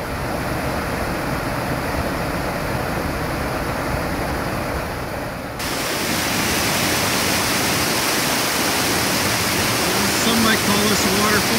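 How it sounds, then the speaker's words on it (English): Continuous rushing roar of water tumbling over rocks in Rock Creek's rapids and small waterfall, loud and close, growing fuller partway through. "Just a little bit of waterfall."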